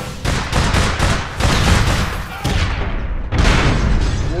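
Gunfire in the online game APB Reloaded, loud close shots in quick rhythmic bursts with a brief gap near the end before firing resumes, dense and punchy throughout.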